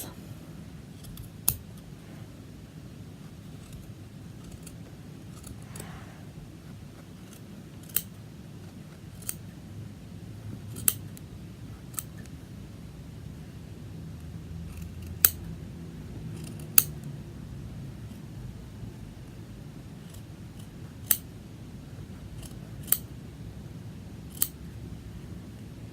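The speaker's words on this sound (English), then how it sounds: "And now I'm going through and I'm cutting all of these loops." Scissors snip through the yarn loops of a pom-pom in sharp, isolated clicks spaced a few seconds apart, close and crisp against a quiet room with faint low background noise.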